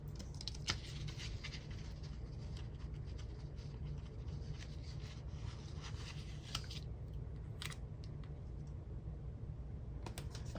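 Small scissors trimming a paper sticker piece for a planner, a quick series of faint, crisp snips and paper rustles close by, with no talking.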